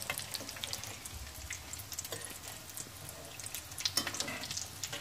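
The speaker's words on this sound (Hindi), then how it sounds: "बहुत मीडियम टू स्लो आंच के ऊपर हम फ्राई कर रहे थे।" Chicken potato cutlets frying in a pan over medium-low heat, a continuous soft crackle and sizzle with scattered pops, fairly quiet and unbroken by talk.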